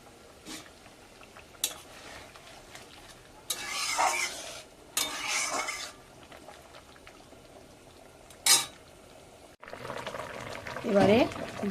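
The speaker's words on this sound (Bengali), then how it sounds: "মাছের ঝালটা ফুটে উঠেছে" Fish curry simmering in a pan in a home kitchen, with soft bubbling under bursts of stirring, scraping and splashes of liquid, plus a brief sizzle toward the end.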